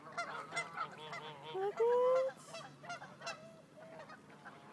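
A duck or goose in a park gives a run of honking calls, several short nasal honks close by, with one longer call in the middle and a little quiet talk around them.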